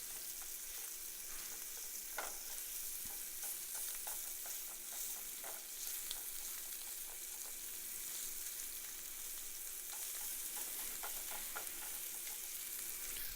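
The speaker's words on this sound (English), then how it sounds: "I'm not using a metal spatula because this is a non-stick pan" Food stirred in a non-stick pan with a non-metal spatula, a steady close sizzle of browning ingredients with soft scraping strokes scattered throughout, no voices.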